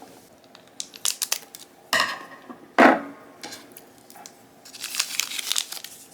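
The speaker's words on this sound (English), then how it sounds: "let me go ahead and get scissors and open this up" Crinkling and rustling of fountain pen packaging as it is cut open with scissors, with sharp snips and a loud tearing burst, close by, with a brief word spoken.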